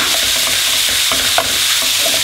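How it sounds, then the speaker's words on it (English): Ground meat sizzling loudly in a hot frying pan over high heat, a constant bright crackle with occasional scraping clicks as it is stirred, close up and without any voices. "I'm now going to put this ground meat in there as well. Give it a nice mix around."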